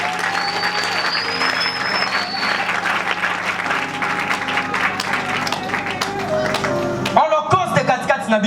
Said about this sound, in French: Acclamons d'abord pour Jésus-Christ.